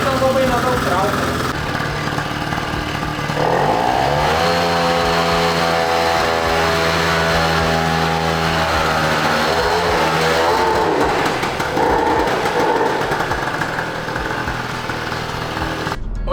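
A Benelli 491 moped engine runs close by and revs up, holding a buzzing, climbing pitch before easing back toward idle, with someone speaking over the motor.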